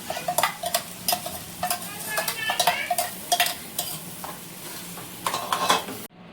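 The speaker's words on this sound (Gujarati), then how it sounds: "હવે એમાં ડુંગળીની ગ્રેવી નાખી દેવાની" Onion gravy cooking in a pan for chole, sizzling under a series of quick spoon-on-pan stirring clatters, close and busy, then a sudden stop at the end, no voices.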